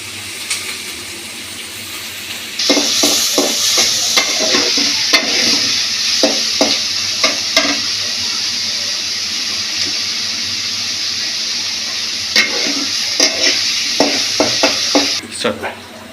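Koi fish fry in a home pan with a strong, bright, continuous sizzle that starts abruptly and is broken by repeated scraping and stirring clicks.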